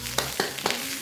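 Pork and preserved vegetable stir-frying in a wok for street-food dan dan noodles, a constant loud sizzle broken by three quick scraping tosses of the spatula.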